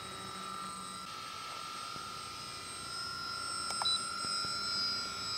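A 75-inch scratchbuilt RC cargo plane flies on its maiden flight, giving a steady, distant propeller and motor drone that holds a constant tone and swells slightly toward the end.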